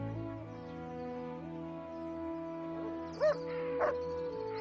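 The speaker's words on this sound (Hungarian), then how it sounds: "Jó kutya, hagyd!" Dog barking and yipping in a Hungarian-dubbed English TV drama, a couple of sharp near barks standing out over a steady tonal music bed.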